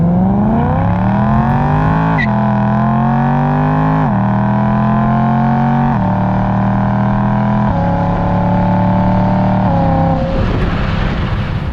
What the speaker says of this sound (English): a naturally aspirated V8 just kind of singing and making all that noise going through the gears